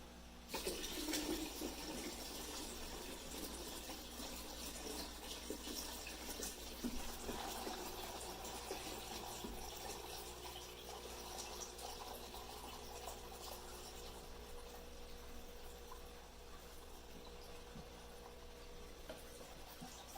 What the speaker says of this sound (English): Put some more water.